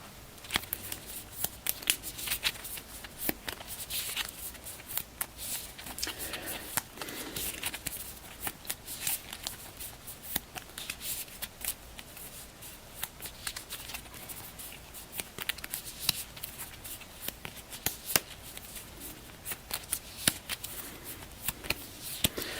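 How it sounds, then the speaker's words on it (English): Explorer cards from The Guild of Merchant Explorers board game are shuffled by hand at close range, a long run of soft riffling and papery slapping bursts that repeat unevenly at low volume. "Just getting a shuffle in here."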